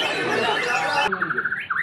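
A white-rumped shama (murai) songbird at a singing contest gives a short run of repeated high whistled chirps after a moment of noisy chatter, fairly close and clear.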